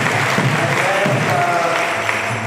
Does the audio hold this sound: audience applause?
yes